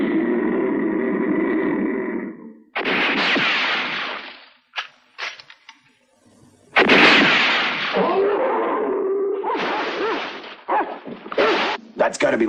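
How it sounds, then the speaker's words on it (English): In an audio drama, a couple of brief, sharp gunshot cracks land in a quiet gap between stretches of characters talking and calling out. "Oh, that was a gunshot."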